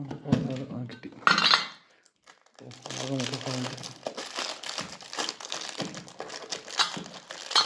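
A Fastrack watch being unboxed: crinkling and rustling of packaging with a sharp crackle burst near the start, then continued handling noise under a voice talking throughout.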